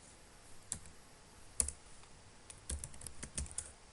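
Quiet, irregular clicks of keys on a computer keyboard as PHP code for a login form is typed, with short bursts and pauses between keystrokes.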